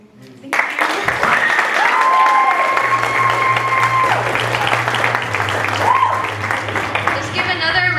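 Applause from a poetry night audience after a poem, dense and steady clapping mixed with crowd noise and some cheering, while voices carry over it throughout.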